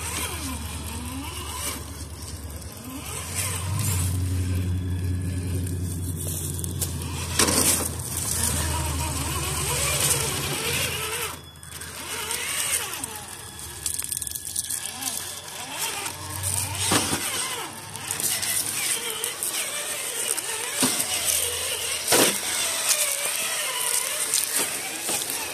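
Traxxas TRX4 High Trail Ford RC truck crawling over an outdoor RC park trail course, a steady whining motor hum with uneven surges and scrabbling noise running throughout.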